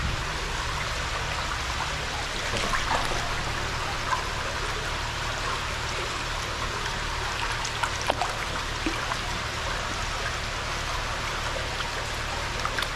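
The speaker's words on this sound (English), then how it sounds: "It's pouring out up there too." Heavy rain pouring down outdoors in Alabama: a dense, steady hiss of falling water, close and unbroken, with scattered louder drops and no voices.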